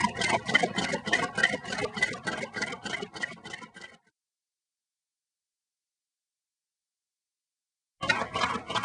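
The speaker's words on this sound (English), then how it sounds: "This is our engine without any heat source." A homemade Stirling engine runs with no heat source, giving a close, rapid, regular mechanical ticking that stops for a few seconds and then starts again.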